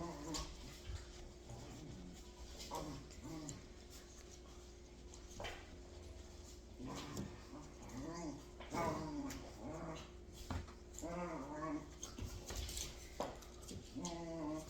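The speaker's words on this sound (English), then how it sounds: "Apparently my dogs now think it's playtime." Playful dogs whimper, yip and growl close by in repeated short bursts over a steady background hum, with a person talking intermittently.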